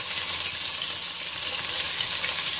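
Onions sizzle in a pan with garlic, a steady close crackling hiss of frying that runs unbroken throughout.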